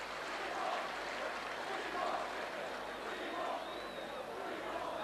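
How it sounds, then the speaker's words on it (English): A rugby league crowd at Leeds v St Helens in 1990 keeps up a distant, continuous roar and chanting under close commentary, with no sharp peaks, just a sustained wash of stadium noise. "And the crowd shouting out for 50"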